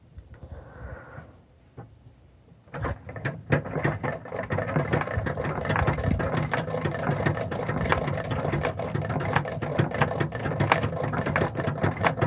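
A treadle sewing machine stitching during free motion quilting runs in a steady, close mechanical patter with rapid rattling needle strokes, starting after a quiet few seconds and continuing unbroken.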